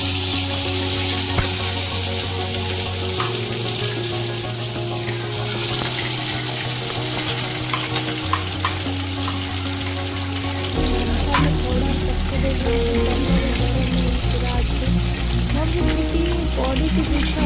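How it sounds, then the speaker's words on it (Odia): Marinated fish frying in oil in a wok, giving a steady loud sizzle and crackle up close, with a low, tonal hum running underneath throughout. "ମାଛଟାକୁ ଭାଜିବା"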